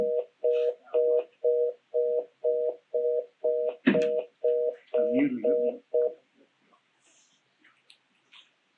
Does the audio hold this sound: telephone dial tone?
yes